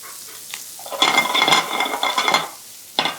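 Finely minced garlic, a generous amount, frying in a pan over medium heat: a bright, crackling sizzle swells up loud and close, holds for a second or so amid a light clink of utensils, then drops away before a brief final burst.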